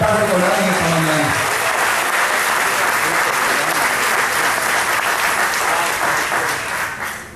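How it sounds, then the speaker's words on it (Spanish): A church congregation bursts into sustained applause during a Spanish-language sermon, a full, even roar of clapping that holds steady before tapering off at the end, with a voice briefly heard at the start. "Un aplauso al Señor que te lo está recordando en esta mañana."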